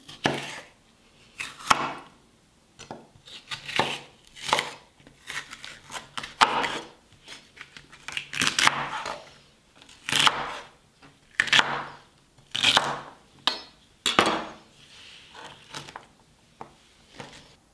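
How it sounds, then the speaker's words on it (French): A knife chops celery stalks on a cutting board in crisp, irregular strokes, close and clear, with short pauses between bursts. "Je vais couper aussi quelques blancs de céleri."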